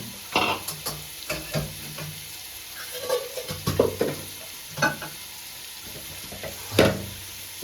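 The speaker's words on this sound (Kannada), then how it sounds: "ಈಗ ಈರುಳ್ಳಿನ ಬ್ರೌನ್ ಕಲರ್ ಬರೋ ಮಟ್ಟಿಗೆ ಚೆನ್ನಾಗಿ ಫ್ರೈ ಮಾಡ್ಕೋಬೇಕು" Onions frying in a pan and stirred until brown, a soft sizzle under repeated close scraping and clattering strokes of a spoon at an uneven pace, with no voices.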